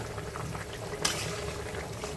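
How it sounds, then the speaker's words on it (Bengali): Jackfruit seed dal simmers in a pot, a soft, steady bubbling with a brief louder pop midway, heard fairly close and without talk. "কাঁঠালের বিচি ডাল এখন একটু বলক আসলে আমি নামিয়ে দেব।"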